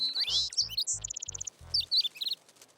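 A cartoon baby bird and its parents chirp back and forth in bright, high tweets and rapid trills, a short lively exchange with no talking.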